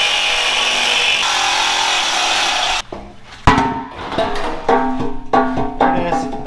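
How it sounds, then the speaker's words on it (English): A reciprocating saw cuts off the heavy bumper of a rat rod tow truck, buzzing loudly and steadily for a few seconds before it stops. Clanging metal knocks and rattles follow as the freed piece shifts. "I'm trying to decide if I want to sawzall all that off right there and just get that bumper out of our way for now."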